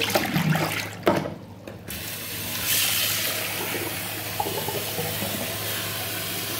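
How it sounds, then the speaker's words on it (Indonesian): Rinse water from washing strawberries poured out into a sink: a loud, close gush and splash, a short break, then a steady running, draining wash of water to the end, with no speech. "Airnya kita buang."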